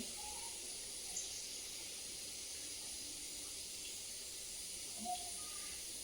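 Potatoes and green chillies fry in a pan, giving a steady close sizzling hiss with a couple of faint pops. No one speaks.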